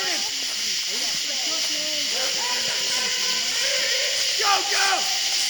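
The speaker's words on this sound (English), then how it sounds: "do you hear that? That's a Wampus Cat, isn't it?" A Wampus Cat creature in a video game gives repeated hissing over a constant steamy background, with short chirping and squealing game sounds scattered through it.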